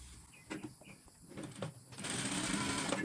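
A sewing machine stitches a fabric placemat, starting with a few soft handling taps before a steady whirring hum of the motor and needle kicks in for the last second, close by.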